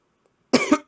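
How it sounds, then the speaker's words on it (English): A short burst of close coughing, two quick hacking coughs breaking a near-silent moment. "Apologies for the coughing."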